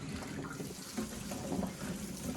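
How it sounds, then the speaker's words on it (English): Beans for pickling are rinsed under running water, a soft steady splashing flow with low gurgles, close and faint, no voices. "Now I'm just gonna rinse these off."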